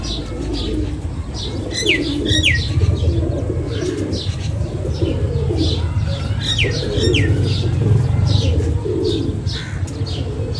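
Pigeons coo in low, throaty murmurs amid a busy background of chirps, occasional wing flaps and steady rumbling noise.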